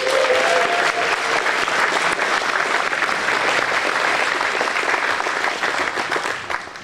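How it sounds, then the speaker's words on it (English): Sustained, dense applause from a large audience at a live talk, cheering two camera operators; the clapping stays loud and even throughout and eases slightly at the very end. "a major round of applause for both Eric and Brian"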